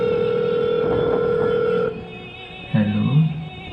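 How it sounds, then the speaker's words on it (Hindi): A landline-style telephone rings on stage during a college fest skit, with a steady tonal ring lasting nearly two seconds, then a brief pause before a louder burst of sound. "फोन आ रहा है।"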